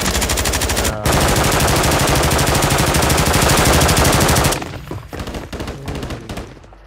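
A video game gun fires in a long, rapid automatic stream for several seconds, loud and close, then breaks into shorter scattered bursts that fade out.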